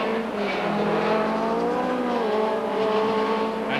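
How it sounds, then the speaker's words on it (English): A 1990 BTCC touring race car engine howls steadily at high revs, a sustained loud drone with shifting pitch as it blasts along, and no speech over it. "He blasts out of the pit lane, leaving Dave Brodie there, down to 16th place"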